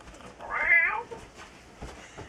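A cat gives one clear, fairly close meow, followed by a couple of faint softer sounds in a quiet room.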